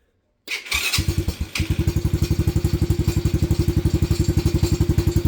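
A Venom Madix 125 motorcycle with carburetor trouble starts with a thump and then runs rough, its engine chugging in a loud, close, uneven pulsing idle with no talk.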